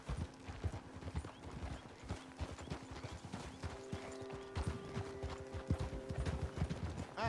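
Horse hooves clip-clop steadily on the ground in Red Dead Redemption 2, a continuous near trot with an occasional whinny and a faint droning hum behind it.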